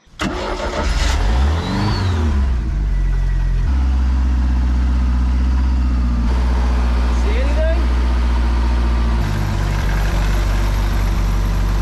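A boat engine running on flush muffs starts up and settles into a steady, droning idle that runs continuously, close and loud, with a faint voice briefly audible.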